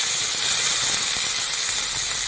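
Onions frying in hot oil with cumin seeds and bay leaf, a continuous close, even sizzling hiss that holds steady throughout with no talking.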